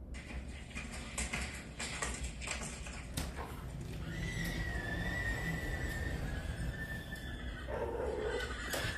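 A horse whinnies in a shrill, drawn-out neigh, close by, with hoof clip-clops and shuffling around it and some faint background murmur.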